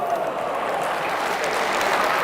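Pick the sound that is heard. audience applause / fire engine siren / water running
audience applause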